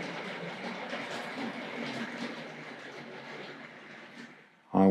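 A Tri-ang R.55 single-ended model diesel pulls cement wagons around the track with a steady, close rolling rumble and clatter that persists throughout, ending in a sudden louder thump.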